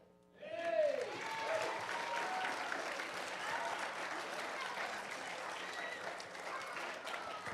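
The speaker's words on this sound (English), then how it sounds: "Give them one more round of applause." A church congregation applauds in a sustained burst of clapping that swells quickly, then holds steady and slowly thins, with voices mixed into the crowd noise.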